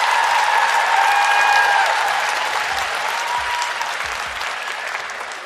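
A dense round of crowd applause fills the room after a speaker's closing words at a live event, loud and steady throughout, slowly tapering with faint whoops mixed in.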